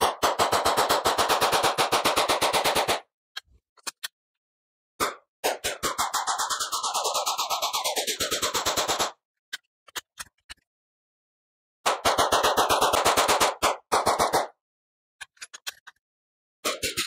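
A Dove Dot red-dot sight rides on a gun fired through full magazines, rapid strings of shots rattling out in long loud bursts separated by short silences during reloads.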